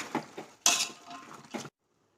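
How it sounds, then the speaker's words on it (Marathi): Fresh beans tossed and stirred in a pan for a Marathwada-style Latur dish, making a few clinking, scraping bursts of metal on metal before stopping abruptly into silence. "आता यामध्ये आपण हे आपले सगळे सोले टाकून घेऊयात छान परतून घ्यायचंय"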